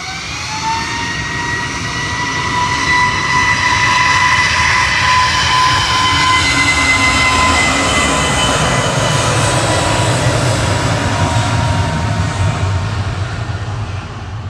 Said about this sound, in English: Ryanair 562 from Dublin's landed in Parole, 737-800 EI EVA